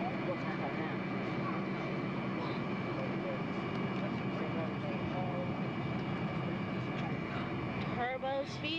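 Airplane engines warming up on the ground before takeoff, a loud, steady turbine roar and whine held throughout, with voices talking over it and a brief rising chirp near the end.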